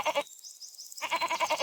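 Cartoon goat bleating in two short clear bursts with a silent gap between them, close and moderately loud.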